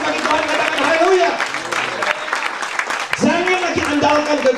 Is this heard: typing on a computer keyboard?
no